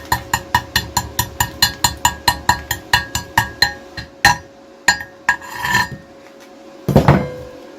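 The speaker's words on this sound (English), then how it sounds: "I have my little homemade chipping hammer" A homemade chipping hammer knocks weld slag from a Forney Easy Weld 140MP weld in a fast run of about twenty sharp metallic taps, close and loud. Then a few slower strikes follow, and a final scrape.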